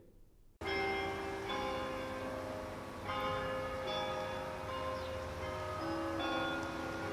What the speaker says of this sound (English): The sound of church bells across Indiana is a familiar one.